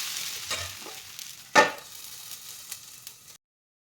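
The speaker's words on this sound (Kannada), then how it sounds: "ಇದು ತೆಂಗಿನೆಣ್ಣೆ ಹಾಕಿ ದೋಸೆ ಮಾಡೋದು." Jackfruit dosa batter cooks in coconut oil on a pan, a faint steady sizzle with a sharp scraping stir or splash midway and a few small clicks, close by with no talking.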